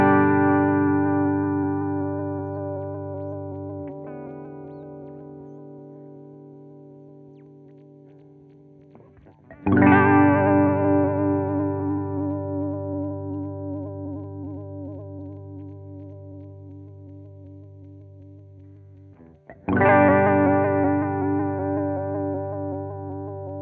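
A guitar run through a Chase Bliss Warped Vinyl MK2 chorus pedal rings out in three long strummed chords about ten seconds apart, each decaying slowly with a wavering, warbling modulation, and there is no speech.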